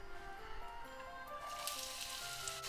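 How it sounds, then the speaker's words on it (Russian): Chopped onion hits hot oil coating the bottom of a frying pan, giving a soft, steady sizzle that stays faint and continuous throughout. "На сковороду налила масло так, чтобы покрыть дно прилично. И выкладываю нарезанный лук."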